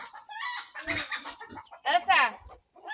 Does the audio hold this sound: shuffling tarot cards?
no